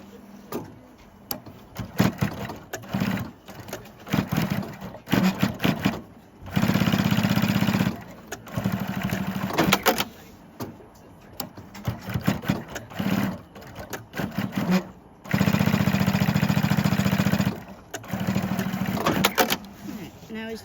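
A sewing machine stitches a MOLLE cummerbund in several loud, sustained runs of rapid whirring, with pauses between bursts filled by handling clicks and rustles. Talk is heard faintly in places.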